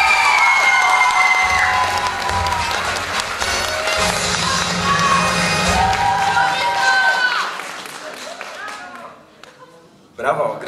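A crowd at the Miss Ziemi Michałowskiej 2014 pageant applauds and cheers as the winner is named, a loud sustained roar of clapping and whoops with voices shouting over it, fading toward the end before a brief final burst.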